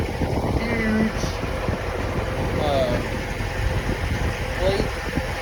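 A stretched Jeep CJ5 engine idles at about 1,100 RPM, a steady low rumble close by with wind buffeting the microphone and a voice talking over it.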